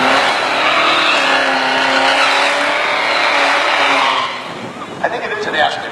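A 1978 Dodge Aspen roars down a quarter-mile drag strip, its engine loud and sustained at high revs before fading near the end, with faint voices of onlookers in the background.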